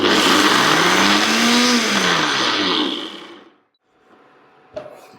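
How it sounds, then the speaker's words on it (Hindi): An electric grinder jar coarsely grinds achaar masala spices, a loud steady whirring roar with shifting pitch for about three seconds that winds down, followed by a brief faint rattle and a sharp knock. "एक ग्राइंडर जार में डाल के इसको कोर्सली ग्राइंड करेंगे"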